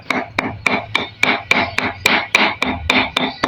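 Red curry paste pounded in a mortar with a pestle for a Thai stir-fried chicken dish: about a dozen steady, evenly spaced thuds with a gritty grinding edge, close and loud, with no talking.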